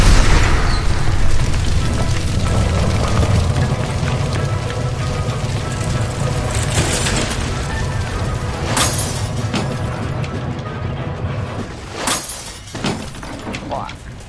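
A gas line blows up in the detective game L.A. Noire, a loud, heavy boom that rolls into a long rumbling roar with crackling debris, then sharp crashes near the end.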